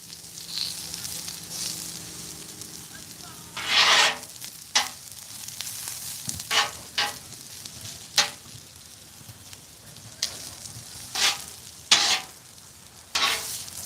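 Potatoes, onions and sausage fry on a Blackstone griddle with a steady hiss. A spatula scrapes and taps at irregular intervals, some strokes loud and close. No speech.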